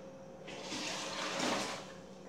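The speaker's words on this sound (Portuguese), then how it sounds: "Agora é só você jogar, escorrer essa água." Water poured and drained out of a blender jar after washing it with detergent, a soft, steady splashing gush that swells and then eases, fairly faint and with no talk.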